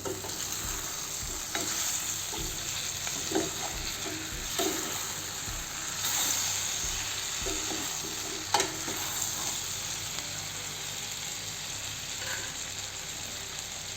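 Ivy gourd (tondli) pieces stirred in a pan with a spoon, scraping and clinking in irregular strokes over a soft continuous sizzle, close and moderately loud with no voices.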